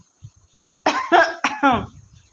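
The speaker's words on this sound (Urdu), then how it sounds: "پھر وہ کھانسی میں ڈوب گیا" Several harsh coughs in quick succession, loud and close, after a brief quiet moment.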